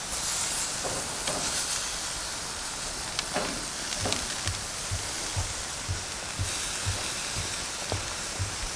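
Steak sears on a grill over high heat with a continuous bright hiss and sizzle, marked by a few sharp pops and a faint, regular low ticking.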